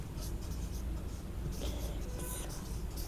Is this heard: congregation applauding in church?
no